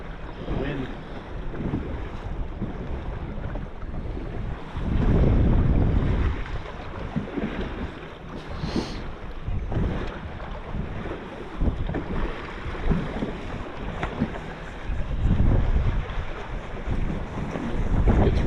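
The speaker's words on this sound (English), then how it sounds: "Wind." Wind buffets the microphone on a fishing boat out on shallow water, loud gusty low rumbles that swell and fade in surges, with water and boat noise beneath and no clear speech.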